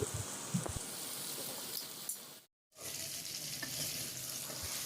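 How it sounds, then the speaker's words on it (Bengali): Pointed gourd (potol) frying lightly in a little oil, a steady close sizzle with occasional stirring knocks, interrupted by a brief silent gap midway before resuming. "এইভাবে কিছুক্ষণ পর পর নেড়ে চেড়ে পটলটাকে হালকা করে ভেজে নিই"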